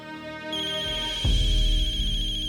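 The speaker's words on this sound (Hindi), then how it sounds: "उसी का फोन आ गया।" An electronic phone ringtone chimes steadily and close, joined midway by a deep, swelling rumble beneath it.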